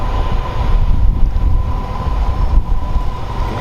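A heavy aggregate freight train bound from East Yard to Mount Sorrel passes Leamington railway junction close by, a loud continuous low rumble with a steady tonal hum and rolling wagon noise.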